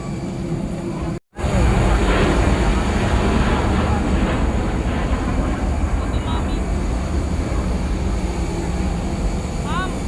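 Airplane at an airport before departure, heard from on board: a loud, steady broadband engine and cabin roar with a brief dropout early on, people talking faintly beneath.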